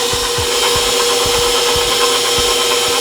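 Stand mixer working soft hamburger bun dough with a dough hook, a steady loud motor whir with rhythmic low thumps as the dough slaps around the bowl, continuous throughout.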